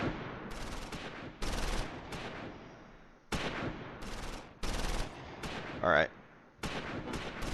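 Close Combat IV wartime strategy game gunfire at Dasburg and Wiltz, with loud repeated bursts of rifle and machine-gun fire broken by short pauses, while someone speaks briefly over it.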